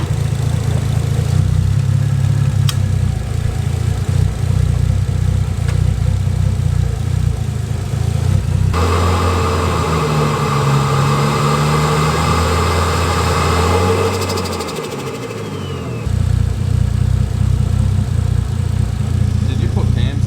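A Nissan Skyline R33 GTST engine idles after a Link G4X plug-in ECU install, a steady low rumble that holds throughout with a slight dip in level near the end, and people talk over it.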